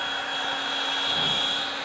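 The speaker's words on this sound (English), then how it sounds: "we can use our heat gun just a little bit" A heat gun warming a vinyl skin on a MacBook Pro gives off a steady, airy fan roar with a constant whine. It runs evenly through the whole stretch, close and unbroken, with no voices.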